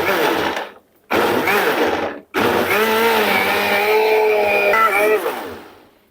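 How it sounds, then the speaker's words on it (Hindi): A kitchen blender churns yogurt, gram flour and onion in a loud, whirring motor roar that runs in three bursts with two brief pauses and then winds down. "और अब मैं ब्लेंडर मशीन को स्टार्ट कर लूंगी।"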